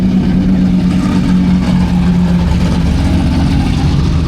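Stockcar race cars lapping the Woodford Glen track in New Zealand, a loud, steady engine roar that fills the whole stretch without pause.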